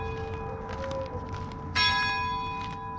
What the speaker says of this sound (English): The bells are going off now.